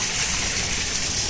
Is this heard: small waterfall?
yes